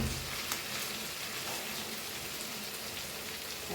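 Shredded cabbage frying in a pan for Goan foogath gives a steady close sizzle and crackle, like rain on a surface, running on without pause and with no talk.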